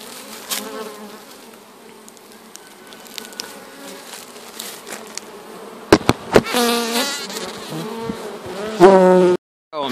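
Honey bees buzz steadily around a barrel top bar hive in a July field inspection, a constant close drone with a few knocks and clatters from the hive near the end.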